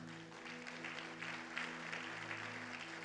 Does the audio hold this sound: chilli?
no